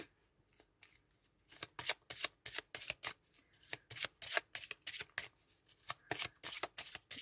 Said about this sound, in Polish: I wyciągniemy dla Was jeszcze karty wyroczni anielskiej